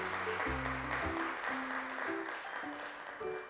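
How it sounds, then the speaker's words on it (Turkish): An audience applauds for children on a television show, a steady wash of clapping throughout, running beneath a tonal musical jingle. "Alkışlarımızı gönderiyoruz sizlere"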